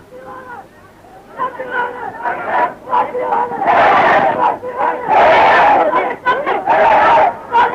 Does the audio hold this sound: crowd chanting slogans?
yes